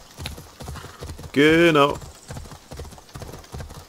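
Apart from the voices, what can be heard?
horse hooves while riding in Assassin's Creed Odyssey video game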